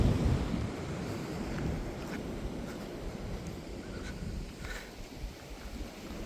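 Sea waves wash in a steady, rushing roar at a harbour, with gusting wind buffeting the microphone and no voices.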